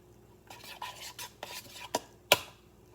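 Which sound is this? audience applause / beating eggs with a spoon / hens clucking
beating eggs with a spoon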